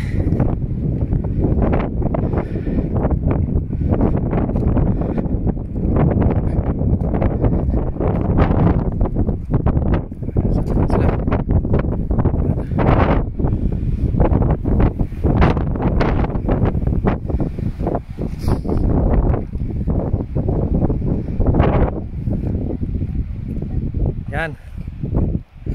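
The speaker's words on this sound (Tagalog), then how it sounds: "Kasang hangin." Strong wind roars continuously outdoors beside Tasman Lake, buffeting the microphone with loud, gusty bursts throughout.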